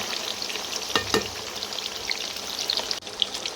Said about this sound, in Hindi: पनीर को अच्छे से फ्राई करना है दोनों तरफ से